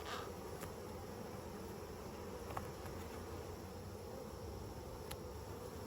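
A dense, steady hum of many honeybees buzzing together in a hive box, continuous and fairly close, with an occasional louder bee passing by.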